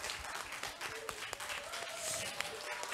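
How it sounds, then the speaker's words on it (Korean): Faint, distant applause from an audience at a national science inquiry competition final, a soft, steady patter of clapping with some crowd murmur. "멋진 아이디어 발표해 주신 모든 팀들에게 박수 부탁드립니다"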